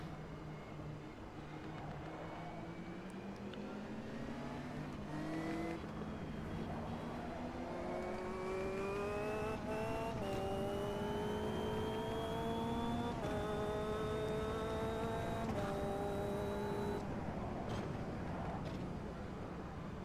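A 300 HP Caterham race car engine in Automobilista 2 revs up and down through the gears, a continuous whining drone with repeated rising pitch sweeps, steady and fairly close.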